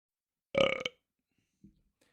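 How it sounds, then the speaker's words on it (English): A single loud, close burp lasts about half a second, followed by a faint softer gulp and then quiet, with no talking. "the talk about these commercials made me burp"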